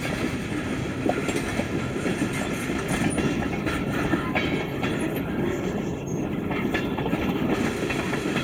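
A freight train with tank cars carrying hydrochloric acid rolls steadily past nearby in Wamac, Illinois, wheels clattering over rail joints with a constant metallic rumble and faint squeals, no voices.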